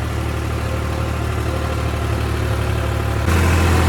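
A tractor engine chugs steadily at close range on a farm at night, a loud low rumble that shifts slightly in pitch near the end.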